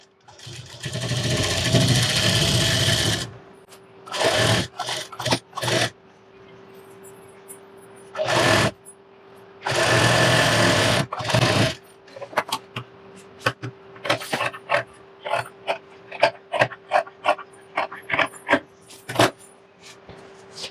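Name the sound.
sewing machine stitching a bridal blouse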